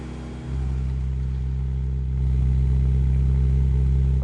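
A car engine in The Grand Tour video game holds a steady, loud high idle that steps up in pitch partway through and keeps droning close by, with no talking over it.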